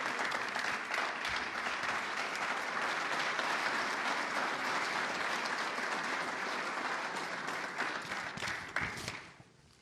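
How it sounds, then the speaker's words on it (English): An audience at a New York government announcement event claps in a sustained round of applause that holds steady for several seconds, then tapers off quickly at the end. "I just want to give you one more round of applause."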